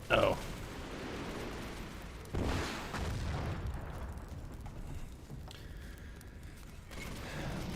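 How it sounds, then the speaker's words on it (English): Missile explosions in the Battlefield 40K video game: a sharp blast at the start, then a second burst trailing into a low, rumbling roar that fades, heard at moderate distance and fairly faint. "My god, those missiles are close."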